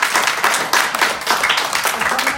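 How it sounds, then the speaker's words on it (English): An audience at a youth night boxing and bike-safety event claps for a guest, close, loud bursts of uneven hand claps in quick clusters, with some voices mixed in. "So guys, we're going to thank Tariq with a big clap."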